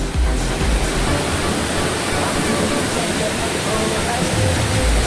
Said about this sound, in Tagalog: Ibig sabihin may talon pa doon.